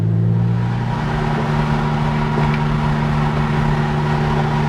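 Steady engine drone from a 1996 Porsche 911 993 GT2 Evocation on a road drive, heard from inside the car, holding a constant low hum with a slight shift in pitch early on.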